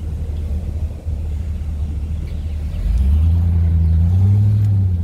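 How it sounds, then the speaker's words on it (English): A truck pulls up close by, its low engine rumble swelling loud and steady about halfway through and holding to the end, with no talking. "My truck's pulling up right next to me."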